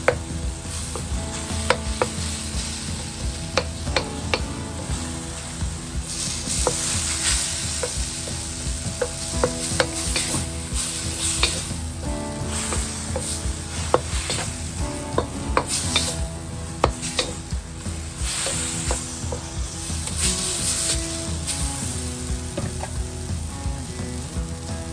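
Mango peel mixture sizzles steadily in a hot pan while a spoon stirs and scrapes through it, giving a dense, continuous frying hiss broken by frequent close clatters and scrapes across the whole stretch.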